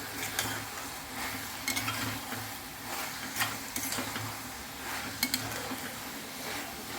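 Ghati masala and sambar masala roasting in a pan, stirred with a utensil that scrapes and taps in a steady rhythm over a low, continuous sizzle, close up with no voices.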